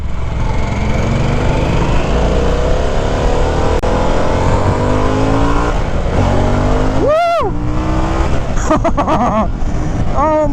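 A 2021 Harley-Davidson Pan America Special revs hard while being ridden, its loud engine note rising and falling through the gears with steady wind rush, and a rider's voice breaks in near the end.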